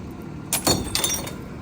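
Glass falls from the back of a Heil PowerTrak rear loader garbage truck and breaks, a brief sharp crash and tinkle of shards over steady truck rumble.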